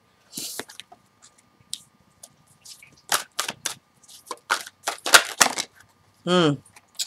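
Tarot cards are shuffled by hand in short bursts of riffling and flicking, with soft taps as some cards fall out, close and fairly loud against a quiet room, with a brief voiced sound near the end.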